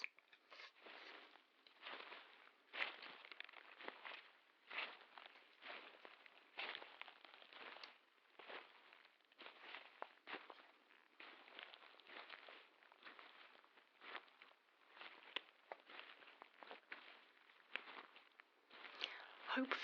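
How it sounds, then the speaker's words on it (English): Footsteps crunching through a forest at a steady walking pace, close and dry, repeating continuously without a break under a quiet background. "listening to this sound and count the amount of footsteps"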